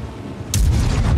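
A single booming tank cannon shot in World of Tanks, a sharp loud blast after a quiet moment, with a rumbling low tail that lingers to the end.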